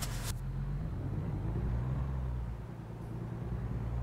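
A heavy truck engine in American Truck Simulator rumbles steadily and low as the rig begins to pull away. The drone stays constant and close, with a short hiss near the start.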